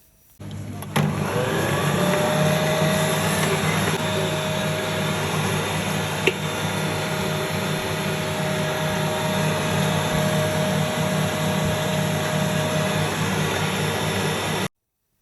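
An electric stand mixer works dinner roll dough, starting abruptly and running as a steady, loud motor whir with a high whine that holds evenly for around fourteen seconds before cutting off.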